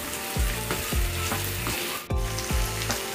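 Capsicum frying in a pan, a loud close sizzle with repeated rhythmic scraping and tossing strokes about every half second and a brief sharper clatter midway.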